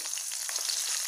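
Two green chillies sizzle in hot oil while a tempering is made for raw-mango pulihora. The frying crackle is steady and close, with small pops, and there is no talk.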